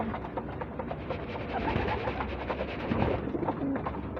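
Pigeons coo softly and continuously, a low murmuring chorus of several birds close by with rustling in the background.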